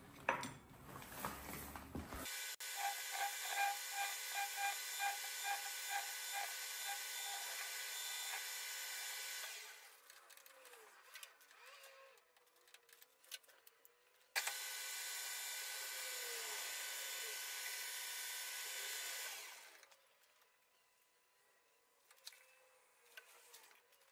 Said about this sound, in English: I'll change the tool onto this one and put a bit of a chamfer on either end.